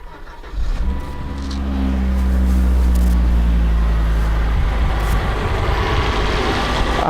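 A 2004 Volvo V70R turbo engine cranks and catches from cold, then settles into a steady, smooth idle that rumbles loud and close for several seconds.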